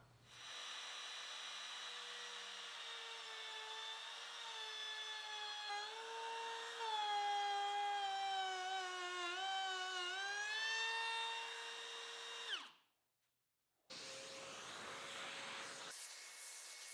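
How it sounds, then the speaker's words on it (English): A router fitted with a cove bit cuts into plywood with a loud, steady high whine whose pitch sags under load. It cuts out briefly near the end and then starts again. "I'll use a cove bit in the router and hold the base of the router tight against the"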